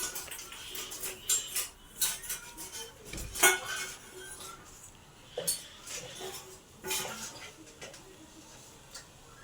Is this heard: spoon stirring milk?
yes